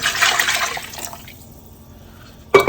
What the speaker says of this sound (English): With the same cup I'm measuring another 5 cups of water.